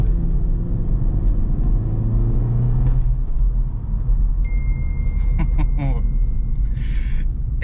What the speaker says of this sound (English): the exhaust is tuned so well